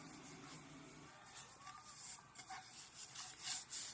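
Tape being rubbed by hand onto a sublimation tumbler to wrap it snugly, a soft continuous scuffing friction that swells in a few quick strokes toward the end, close and quiet with no talk.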